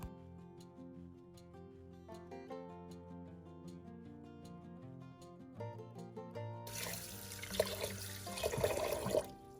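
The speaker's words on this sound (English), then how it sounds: "clean and wash the sticky rice a couple times and let it soak" Water splashes and sloshes loudly as purple sticky rice is washed by hand, the rough, continuous wash arriving in the final few seconds over steady background music, with no one speaking.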